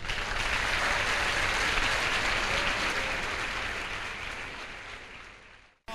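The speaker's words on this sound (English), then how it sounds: "Can we applaud ourselves?" Sustained applause from the audience at the 2009 NSMQ Ghana grand finale quiz contest, a dense steady wash of clapping that fades slightly before cutting off abruptly near the end, with no voices over it.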